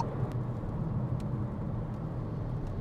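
A 2025 VW Taigo Style with the 1.0 TSI engine holds higher revs in S mode, giving a steady, close low drone with road noise filling the cabin throughout.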